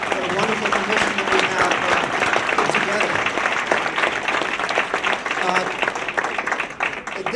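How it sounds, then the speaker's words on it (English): A conference audience gives a panel and commission a round of applause, heavy continuous clapping filling the room for several seconds before thinning slightly at the end, with some voices mixed in. "one more round of applause for this wonderful panel and the wonderful commission"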